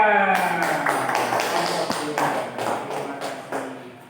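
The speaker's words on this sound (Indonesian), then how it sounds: "Beri tepuk tangan buat Mbak Vika" A small group, likely students in a classroom, claps for a girl, a run of distinct, fairly loud hand claps that starts under a voice and then carries on alone, thinning toward the end.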